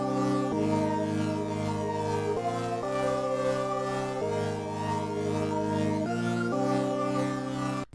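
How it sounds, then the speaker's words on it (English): Sustained synth chords change every second or two in a slow progression, bright and steady with no pauses or voices. "This is what the chord progression is going to sound like."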